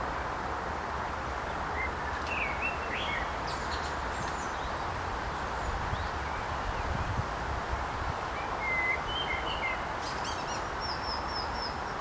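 Small birds chirp faintly and sparsely outdoors, short high calls scattered over a steady wash of wind and rustling leaves, with no talk.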